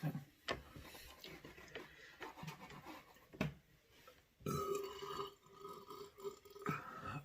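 Several loud, close burps come from a person eating homemade tacos at night. They are spread across the clip with quiet gaps between them, and no one speaks.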